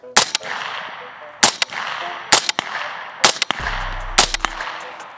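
Five sharp, loud gunshots from an AR pistol with an FRT trigger fired semi-auto, spaced roughly a second apart outdoors, each with a short crack and fading echo.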